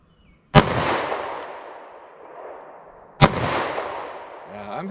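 A snub-nose revolver fires two single-action shots with sharp, loud cracks about three seconds apart, each followed by a long ringing outdoor decay.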